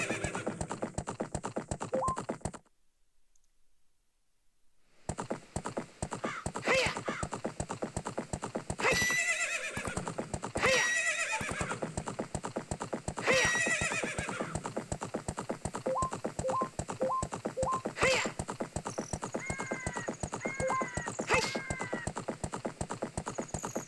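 A horse in Zelda: Ocarina of Time 3D whinnies loudly several times while its hooves clip-clop steadily throughout, with a brief quiet gap near the start and small game chimes scattered through.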